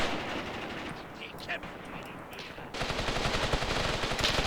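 Submachine gun fire from an MP40 in the Graviteam Tactics war game, short faint bursts in a distant battle din that thickens into steady firing near the end.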